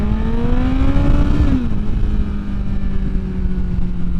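A 2023 Yamaha MT-10 motorcycle with a Moore Mafia ECU flash pulls hard in second gear on an interstate, its engine note climbing steeply, then dropping as it shifts, loud and close with wind noise.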